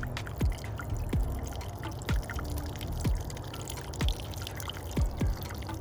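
Water poured into a VermisTerra HydroSpiral set in garden soil splashes and trickles steadily, with a soft drip or plop landing roughly every second over the constant flow.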